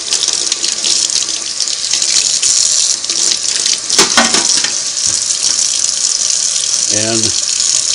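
Tap water runs steadily into a sink while a cleaned part from a Singer 301A sewing machine is rinsed, a loud continuous gush with brief clinks of handling and a voice speaking over it.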